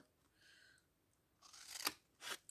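Scissors snip through paper or card while a small square is cut out for a DIY box book. A faint rustle comes first, then two crisp close cuts with a short gap between them, in a quiet room with no voices.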